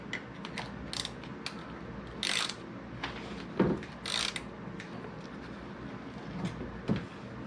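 A ratchet clicks in short irregular bursts while loosening a 10 mm nut on a 1997 Jeep Wrangler TJ fender, with scattered metallic knocks and scrapes, close but fairly quiet and without talk.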